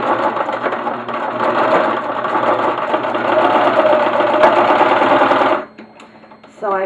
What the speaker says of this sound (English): So I'm going to go ahead and sew this across.